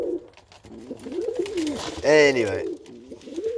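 Ring-necked pigeons cooing close by, a bright rolling coo rising over steady background bird calls, with someone talking over the start and end.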